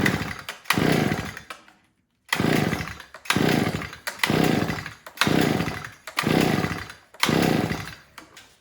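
Predator earth auger's small gas engine pulled over repeatedly without starting, seven or eight close, loud rasping recoil-start bursts in a steady rhythm, each about a second long, separated by brief pauses.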